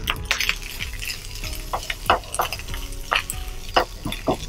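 Curry leaves rice being stir-fried in a pan, a run of rhythmic metal spatula clanks and scrapes over a low sizzle, close and busy, with no talking.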